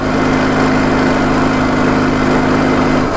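Steady, close drone of a small motorcycle engine losing power and fading as it dies out; the tone holds evenly, then the low hum drops away just before the end.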